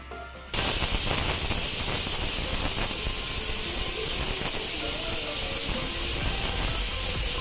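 Steam hisses hard from the weight on a pressure cooker cooking lentils, a loud, steady spray-like rush that starts abruptly and keeps going without a break.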